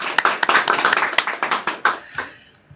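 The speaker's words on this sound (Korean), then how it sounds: "우리 서로 박수로 한번 환영하겠습니다" A small church audience clapping in welcome at an evangelism program briefing, a quick run of crisp hand claps that slows and trails off near the end.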